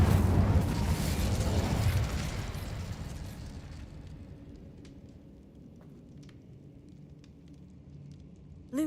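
The Incendio fire spell in Hogwarts Legacy erupts as a loud roaring whoosh that gradually fades into a low crackle, with faint ticking debris and a sudden burst at the very end.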